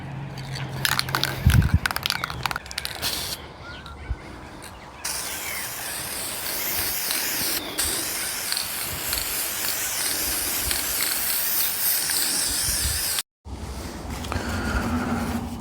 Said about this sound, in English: We finished the couple of coats that we did of the almond spray paint.